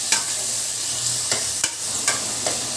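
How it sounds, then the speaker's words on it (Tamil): Two large chopped onions sauté in a pan for a mutton lung and intestine curry. A steady frying hiss runs throughout, broken by a few sharp stirring scrapes. "வெங்காயம் நல்லா வதங்கட்டும்."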